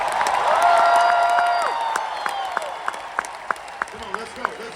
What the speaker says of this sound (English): Clap your hands and shout if you hear me.